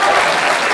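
Audience applause during a church sermon, a dense, steady wash of many hands clapping together, loud and continuous over a short stretch.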